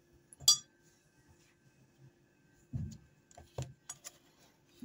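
A metal spoon clinks against a bowl as a tablespoon of sour cream is added for homemade ayran: a few sharp, separate clinks with quiet gaps between them.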